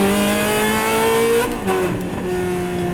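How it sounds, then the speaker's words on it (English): Ferrari 360 Modena fitted with a Capristo exhaust revs hard, a loud close engine note that holds high, then drops and climbs again with a gear change, no voices over it. "Dude, that exhaust! That's loud, right?"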